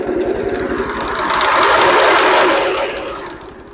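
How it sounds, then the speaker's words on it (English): A lawn mower engine revs up and eases back, loud and close, with a rapid, rhythmic clacking from a loose pulley bouncing up and down beneath the running drone. "it's clacking up and down as it runs"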